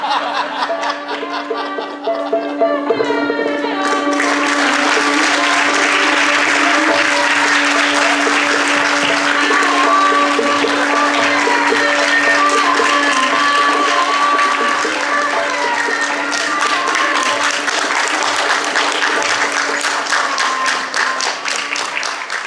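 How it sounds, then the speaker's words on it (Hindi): Loud, sustained audience applause for senior actors after a stage performance of a play, dense clapping that fills the whole stretch with scattered laughter and chuckles mixed in. "एक बार जोरदार तालियां और हो जाएं वरिष्ठ कलाकारों के लिए"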